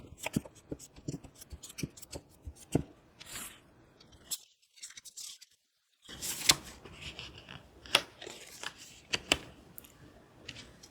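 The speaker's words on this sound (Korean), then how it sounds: "두 가지 카드 또 뽑아보면서 말씀을 추가적으로 드려보겠습니다" Tarot cards riffle and slap in a series of quick, crisp shuffles close by, with a short pause of silence before more card handling and snapping draws resume.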